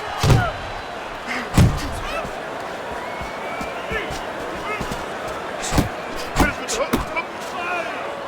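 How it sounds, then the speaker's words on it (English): Punches landing in the boxing video game Fight Night Champion, Andy Ruiz Jr vs James Douglas: a handful of sharp, heavy thuds at irregular intervals, including a quick cluster near the end, under ongoing commentary and crowd noise. "He was just tagged by a big uppercut."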